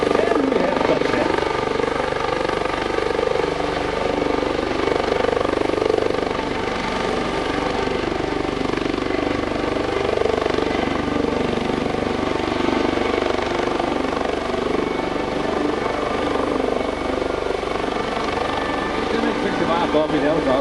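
A Coast Guard Dolphin helicopter touches down during a search-and-rescue demonstration at an airshow, its rotor thumping and turbine roaring loudly and steadily throughout while an announcer talks over it.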